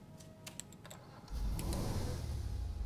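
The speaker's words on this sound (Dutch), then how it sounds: "En een lekker motorgeluidje zoals jullie horen." A VW T6 ambulance in a GTA V mod starts up after some light clicks, its engine settling into a steady mid-pitched running hum that stays close and alone.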